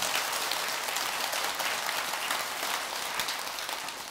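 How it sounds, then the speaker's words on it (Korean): Steady, dense applause from a large audience at a Buddhist dharma lecture gathering in a temple hall, a continuous wash of clapping sustained evenly throughout without any voices. "박수 한번 크게"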